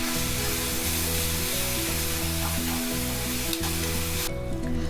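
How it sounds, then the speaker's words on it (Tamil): Masala sautéing in a pan for a semi-gravy potato curry: loud, steady frying sizzle that runs unbroken for the whole stretch, with a low tonal hum beneath it. "எல்லாமே சேர்த்துட்டு நம்மளுக்கு ஓரளவுக்கு நல்லா வதங்கி வந்துடுச்சு"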